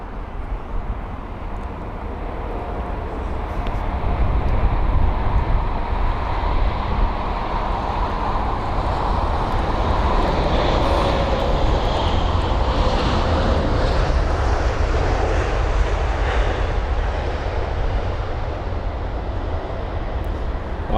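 An airliner, registration G-YMMT, arrives on runway 27R at London Heathrow, its engines a loud, broad roar that swells and stays strong as it passes close by, with nothing else standing out.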